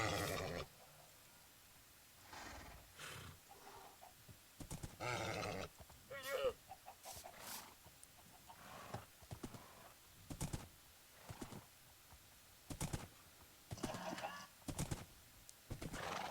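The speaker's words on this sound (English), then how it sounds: "Just give in and let yourself be a tamed horse that I can take places and potentially sell." A horse in the Minecraft video game, with repeated neighs and snorting whinnies alongside hoof clops, heard in short bursts with pauses, moderately close.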